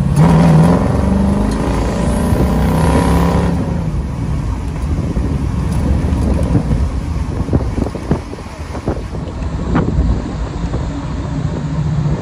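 A 1957 Corvette is driven in second gear, its engine droning under heavy wind buffeting against the microphone throughout.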